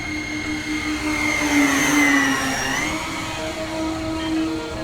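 An E-flite Beechcraft D18 1.5m twin-engine RC warbird flies low over terrain, its electric motors giving a steady whine with a slowly shifting pitch that swells and fades as it passes, heard alone at moderate distance.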